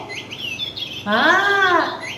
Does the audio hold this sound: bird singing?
yes